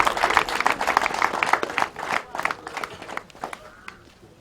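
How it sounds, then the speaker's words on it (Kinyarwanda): Applause from guests at a wedding for a man, a dense burst of clapping mixed with crowd voices that thins out toward the end. "Namumpereye amashyi ko uyu mugabo."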